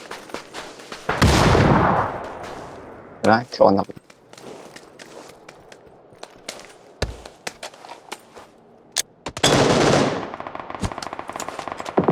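A turret in a video game fires loud bursts of machine-gun rounds with a few lone shots between them, close by and mixed with footsteps and players talking.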